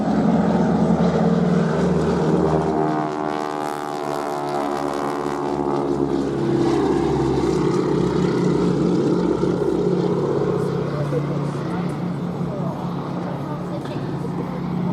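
A Boeing Stearman biplane carrying wing walkers flies past at the Duxford air festival, its propeller engine droning loudly and steadily throughout, with a voice talking over it.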